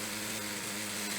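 A tuned nitro engine runs at a sustained high-pitched whine, steady and continuous throughout without breaks.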